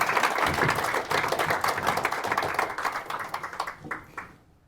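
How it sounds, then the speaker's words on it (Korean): An audience in a Korean business seminar claps together, a dense rolling applause that holds steady and then thins into a few scattered claps before stopping. "우리 성공을 위해서 자신을 위해서 박수 한번 치고 시작합니다"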